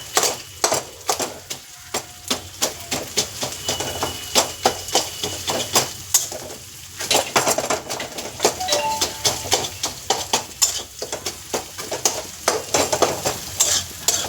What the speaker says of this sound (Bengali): তো ইলিশ মাছের মাথাগুলো ভালো করে ভেজে ভেঙে দিয়েছি